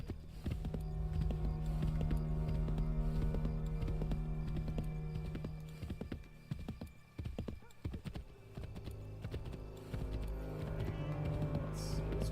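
Hoofbeats of a horse galloping in the Assassin's Creed III video game, a steady rapid clip-clop with a whinny, set against a continuous game music and ambience bed; a person talks over parts of it.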